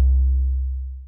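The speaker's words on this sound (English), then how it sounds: "So that's our original 808." A single 808 bass hit from the Raven Wings drum kit booms deep and loud, its rich harmonics thinning as the low tone steadily decays over about a second, with nothing else heard.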